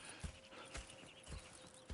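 Horses in the video game Red Dead Redemption 2 moving at a quiet, faint walk, with a few soft hoof clops spaced irregularly over a low ambient background and no talking.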